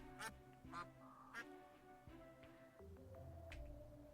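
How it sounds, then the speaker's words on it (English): Ducks in the Terraria video game quack several times in short, nasal bursts, spaced unevenly over a low background hum. "Did anybody else just hear one of those ducks literally say quack?"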